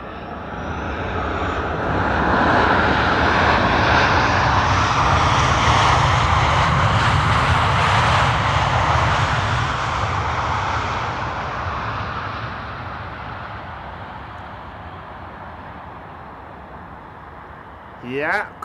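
An airliner on the runway at Amsterdam Schiphol Airport, a Korean Air 787-10 Dreamliner, roars loud and steady with jet engine noise that swells then slowly fades into the distance.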